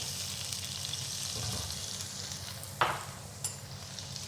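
Ginger and garlic fry in butter with a steady sizzling hiss, broken by a sharp scrape of a stirring utensil and a second lighter clink, close and clear, with no speech.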